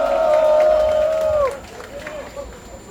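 A crowd of delivery riders at a rally raises a loud, sustained shout of welcome that holds steady and then drops off sharply after about a second and a half, leaving quieter murmuring and a voice.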